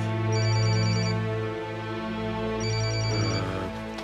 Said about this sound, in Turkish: telefonu açıp geliyorum